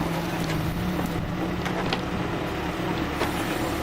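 An off-road vehicle's engine roars steadily at a rural off-road event, a loud, continuous, close drone that strains under throttle without breaks.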